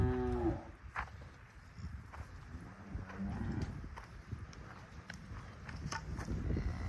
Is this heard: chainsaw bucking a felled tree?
no